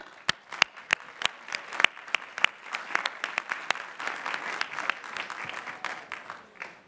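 Applause at a university commencement for new doctoral graduates, starting with a few sharp, distinct claps that quickly swell into steady crowd clapping.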